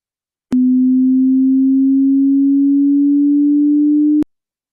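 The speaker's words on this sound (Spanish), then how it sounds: "Vemos que una onda de alta frecuencia" A pure sine wave tone, steady and loud, sounding alone for about four seconds with abrupt start and stop clicks; the pitch sits fairly low and rises very slightly.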